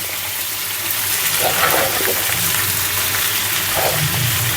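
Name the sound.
bitter gourd frying in oil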